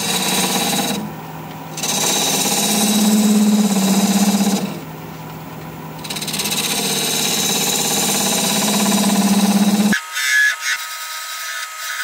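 Wood lathe spinning a Russian olive spindle at about 1,000 RPM, a continuous close mechanical whir with a low hum, periodically changing as the tool engages, then cutting off near the end.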